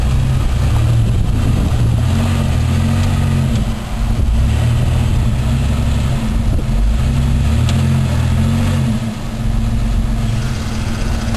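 An off-road truck engine revs steadily and loudly with a heavy low rumble as it crawls over deep ruts on a trail, holding near-constant throttle for the whole stretch with only a brief dip.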